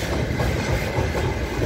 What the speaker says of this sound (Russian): Вон поезд пошел.